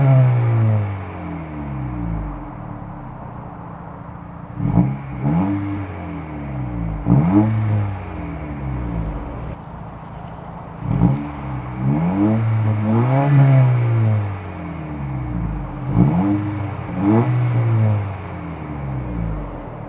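A 2022 Honda Civic Si engine is revved again and again at close range, each blip rising sharply and falling back to idle in an irregular rhythm, with no talking.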